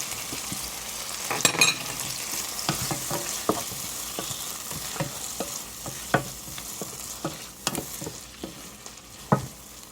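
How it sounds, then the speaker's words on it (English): Tomatoes cook in a pan with a little butter and a stock cube, sending up a low sizzle punctuated by frequent spatula scrapes and taps, some of them sharper, close by with no speech. "And let the tomatoes cook."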